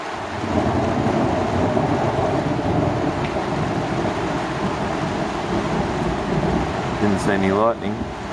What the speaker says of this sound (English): we're getting some crazy thunder at the moment